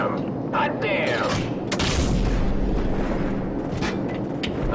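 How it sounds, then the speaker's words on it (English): Heavy gunfire and rumbling explosions near friendly troops in Call of Duty 4 Modern Warfare, a continuous loud battle din with deep booms, overlaid by voices talking. "You're firing too close to the friendlies."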